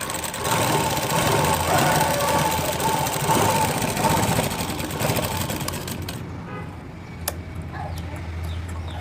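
Rapid whirring stitching of a sewing machine working on a blouse, loud and steady close by for several seconds before stopping abruptly, leaving a quiet room with a few small clicks.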